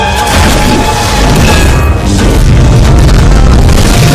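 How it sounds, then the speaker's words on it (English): Loud, sustained thunder from a lightning strike, a dense rumbling boom with crashing texture that holds steady and near for the whole stretch. "That's the sound of lightning."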